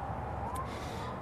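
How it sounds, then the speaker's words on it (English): An ambulance siren wails faintly in the background, a thin steady tone under a broad rumble of ambient noise, with no speech over it. "like here comes the ambulance. You can hear it now in the background."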